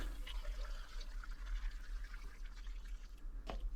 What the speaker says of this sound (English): Once it's all mixed, I pour it in the pot.